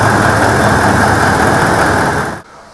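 A 2016 Toyota Land Cruiser 200 engine runs at a steady, loud idle with a low even rumble, then cuts out abruptly near the end.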